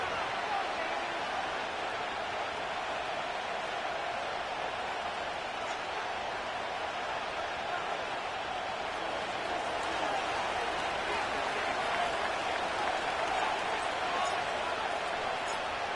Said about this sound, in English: A good crowd on hand and seemingly ready to go in the Motor City.